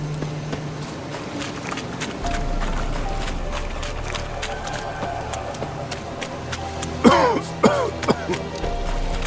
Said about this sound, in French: C'est bon, j'arrête de tousser là.